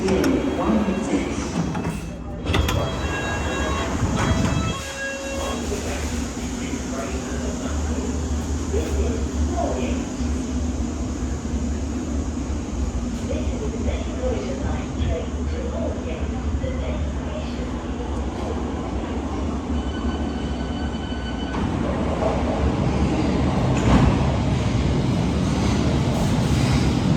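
A London Underground Metropolitan line train at Moorgate Station gives a continuous loud rumble and whine, with a sharp clunk near the start and a rising mechanical hum near the end, over a broad station roar.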